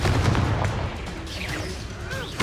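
Confringo spell cast in Hogwarts Legacy combat, a loud booming burst at the start fading into swirling magical whooshes and chaotic fight noise.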